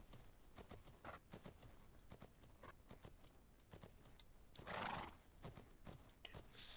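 Horse in a riding academy video game, steady hoof clip-clop at a canter with a loud whinny partway through, close and clear with no talking.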